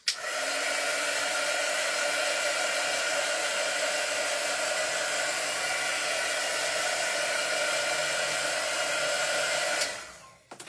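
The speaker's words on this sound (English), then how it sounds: "I'm going to take my heat tool." A craft heat tool blows hot air in a loud, steady whirring hiss close to the mic, running unbroken for about ten seconds before it switches off and winds down, with no speech.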